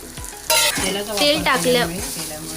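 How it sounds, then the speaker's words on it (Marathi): Fresh grated coconut roasting in a little oil over a low gas flame, loud close scraping stirs and a hissing sizzle sweeping in repeated strokes. "आता मी इथे ओलं खोबरं भाजून घेणार आहे। त्याला पण आपल्याला स्लो गॅसवरच भाजून घ्यायचं आहे।"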